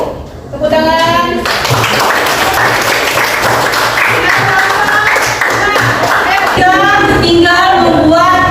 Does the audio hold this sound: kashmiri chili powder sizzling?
no